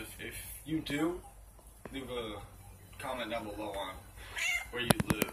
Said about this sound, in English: I'm sorry if you hear a cat in the background